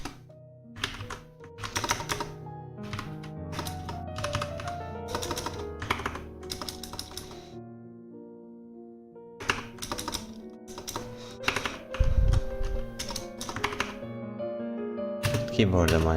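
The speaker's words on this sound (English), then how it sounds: "what keyboard am I using?" Rapid typing on a computer keyboard, close and clear, in bursts of key clicks and thunks with a brief pause midway, during a study session.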